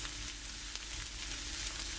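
Spinach sauce for spaghetti stirred in a pan, a dense, even sizzle and bubbling hiss with faint stirring, no talking.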